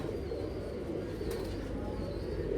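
Pigeons coo with a low, steady murmur that fills the whole stretch without pause, close by and moderately loud, with only faint background noise.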